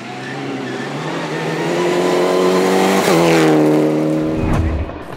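A Mitsubishi Lancer rally car runs hard on a rally stage, its engine note climbing loud and close, then shifting abruptly mid-run before tyres scrub and the car pulls away, with no voices over it.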